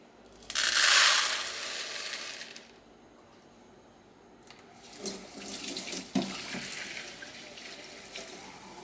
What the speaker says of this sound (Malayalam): ഒരു കപ്പ് ചവ്വരി രണ്ട് കപ്പ് വെള്ളം ഒഴിച്ച് ഒന്ന് കുതിരാനായിട്ട് മാറ്റി വയ്ക്കാം